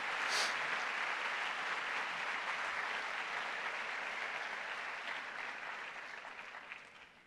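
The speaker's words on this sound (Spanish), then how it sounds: "dale fuerte ese aplauso al Señor" A church congregation applauds in a full, sustained burst that stays strong for most of its length, then gradually tapers off.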